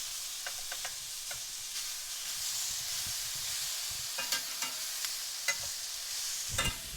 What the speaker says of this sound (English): we're browning our meat, and cooking up our onions